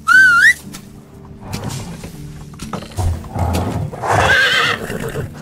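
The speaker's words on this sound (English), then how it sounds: "I'll call the horse." In the video game Medieval Dynasty, a horse whistle sounds, followed by hooves clip-clopping closer and a loud horse whinny near the end.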